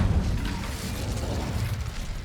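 A fiery burst from the Incendio spell in the video game Hogwarts Legacy, heard as a dense, roaring whoosh that fills the whole moment, loud and sustained without any speech.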